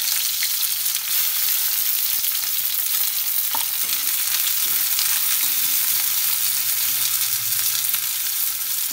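Onions fry in hot oil over cumin seeds for Bihari-style chana ghugni, giving a continuous loud sizzle with occasional spatula scrapes against the pan, heard alone.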